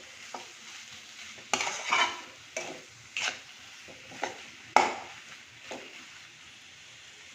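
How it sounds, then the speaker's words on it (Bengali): Mashed potato curry is stirred with spices and salt in a hot pan, with sizzling frying and repeated scraping strokes of a spoon against the pan at an uneven rhythm, close and moderately loud. "এটা আর একটু মশলার সাথে কষবে।"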